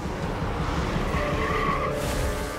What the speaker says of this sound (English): a woman plows her car through the window